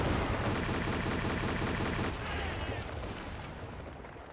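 A Panzerwerfer rocket barrage firing in Company of Heroes 2, a rapid rattling string of launches for about two seconds followed by a rumbling wash of impacts that slowly fades.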